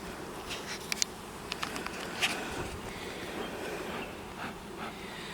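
Honey bees humming at an open hive with a two-year-old queen, a steady low drone running throughout with a few brief, closer buzzes of individual bees passing nearby.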